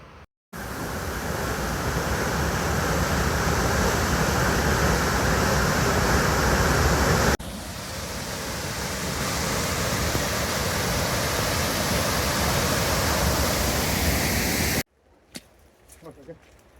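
Heavy rain pours near a waterfall on a backpacking loop in the Northern Indian Peaks, a loud, steady roaring wash that briefly breaks midway, then cuts off abruptly near the end, leaving quiet scattered sounds.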